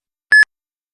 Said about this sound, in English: Please start after the beep.